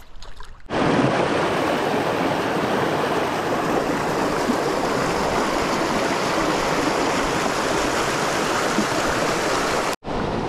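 River rapids and a waterfall roar in a steady, loud, broadband rush of churning water, close by and continuous, with no voices over it.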